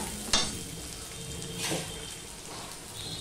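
Spices with turmeric and salt frying in a pan for katla fish curry, a soft continuous sizzle with a sharp clatter near the start and a few stirring swells, fairly quiet.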